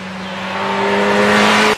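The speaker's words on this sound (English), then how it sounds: "But this engine is immensely powerful, makes a true 131 horsepower at the rear wheel" A 2014 Kawasaki Z1000 motorcycle engine, rated at 131 horsepower at the rear wheel, revs up in one steady, rising pull that grows louder, then cuts off abruptly.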